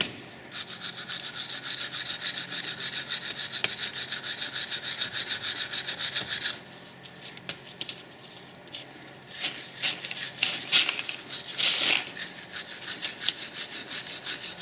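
Steady close rubbing and scrubbing as a cloth wipes a corroded brake hub mating surface clean during a rear brake rotor change, continuous for several seconds, pausing briefly, then resuming in shorter rough strokes.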